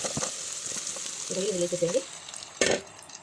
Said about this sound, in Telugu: రొయ్యలు వేసేసేయండి